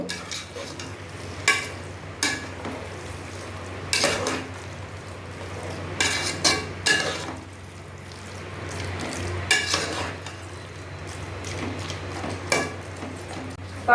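Mushroom gravy, roadside-stall style, frying in a pan while being stirred, with a steady low sizzle broken by repeated scraping and clinking strokes of a spoon against the pan.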